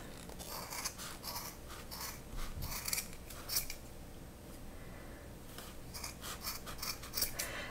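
Scissors snipping through blue yarn while trimming a craft pom-pom, giving steady close, quiet rasping cuts in quick irregular bursts with no talking.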